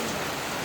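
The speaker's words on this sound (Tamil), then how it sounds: "இங்க நல்ல மழை." Heavy rain falls in Kerala as a dense, even hiss that stays constant through the brief moment with no voices.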